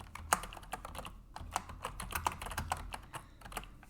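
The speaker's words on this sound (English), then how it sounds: "you can just say search and go directly to the catalog and type in" Typing on a computer keyboard while searching an online catalog, a steady run of quick, close key clicks with uneven rhythm and no talking.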